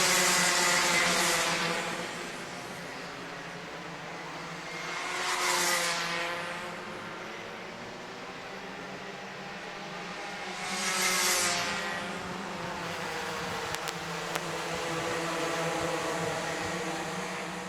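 Mini Max racing kart engines drone at a kart championship race, a steady layered buzz with three louder surges as karts pass close by, fading between passes, with no talking.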